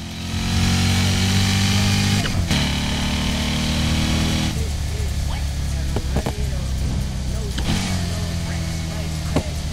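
A tuned car in Need for Speed Heat drones and revs loudly up close, its exhaust throwing flames, with occasional sharp pops and crackles breaking through the steady engine note.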